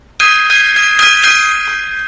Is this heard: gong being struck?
yes